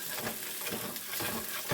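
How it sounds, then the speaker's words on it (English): Cooked potatoes frying in a pan for hash browns give a steady, close sizzle with soft crackle and periodic swells, heard alone with no talk. "Now when you are reheating or frying these baked potatoes or already cooked potatoes that you've got to make the hash browns"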